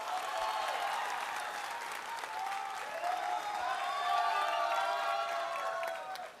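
Audience applause and some cheering for a speaker at a college personality contest, a steady, moderately distant wash of clapping with crowd noise lasting several seconds.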